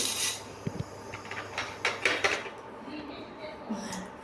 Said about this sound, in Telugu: ఇదిగోండి ధనియాలు వేస్తున్నాను, పచ్చిపప్పు